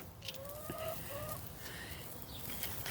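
Chickens cluck and chatter nearby in short bursts, with a few higher calls against a quiet outdoor background.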